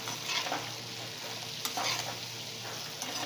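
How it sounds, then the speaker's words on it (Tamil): Vegetables sautéing in a pan for a South Indian home lunch, a steady soft sizzle with occasional stirring scrapes, fairly quiet and close, with no talking. "ஸோ இது அப்படியே ஒரு 5 நிமிஷம் நல்லா வதங்கட்டும்."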